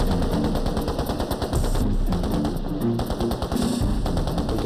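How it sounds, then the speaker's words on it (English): Soldiers in Vietnam open up with weapons on full automatic from a perimeter during a mad minute, a loud, sustained barrage of overlapping machine-gun bursts and rapid gunfire with no let-up. "Every man opens up his weapon on full automatic."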